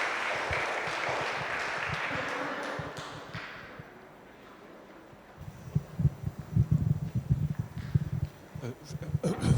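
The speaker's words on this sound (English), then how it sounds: "Can we please have a big round of applause for the speakers?" Applause for the speakers at a collecting talk, loud clapping for about four seconds that fades out, followed by low rumbling handling noise and murmuring.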